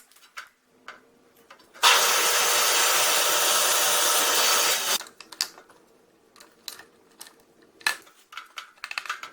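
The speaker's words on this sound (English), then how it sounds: "So I'm going to go drill some holes." A loud, harsh grinding whine of a power drill boring holes into cast aluminum runs for about three seconds, then gives way to scattered small clicks and handling noises.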